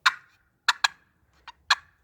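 Wild turkey alarm putts imitated on a box call: five sharp, hollow clucks in an uneven sequence, close and crisp against silence.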